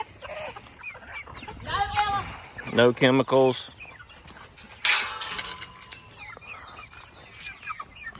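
Pastured chickens clucking and calling outdoors on a farm, several short bursts of clucks mixed with a louder squawk, heard close by between and under a man's speech.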